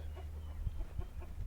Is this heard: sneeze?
no